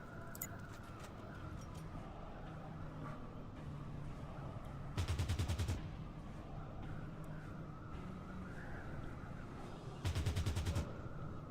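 Enemy gunfire in the Fallout Tactics game: two loud automatic bursts, each about a second long and several seconds apart, over a steady, busy background of game ambience.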